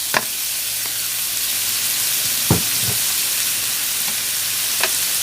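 Enoki mushrooms with shrimp and pork stir-frying in a wok, a close, continuous hiss with a few sharp scrape-and-clack strikes from the spatula scattered through; no talking.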